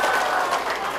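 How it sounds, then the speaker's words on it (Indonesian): A brief burst of audience applause at an Indonesian community briefing, dense clapping at moderate level lasting about a second. "sekali lagi tepuk tangannya Ari."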